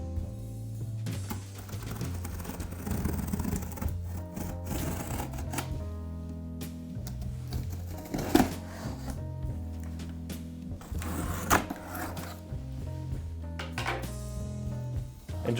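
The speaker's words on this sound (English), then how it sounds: "you will need a pair of scissors to cut the tape" Scissors cut and snip through packing tape to open a Motus screen box. Quiet clicks, scrapes and cardboard rustles come in irregular bursts, close up, with no talking.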